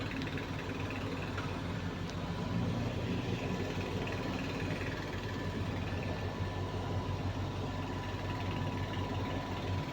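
A bulldozer engine runs steadily on a road paving site, a continuous low diesel rumble with a constant hum, somewhat distant and even, with no talking over it.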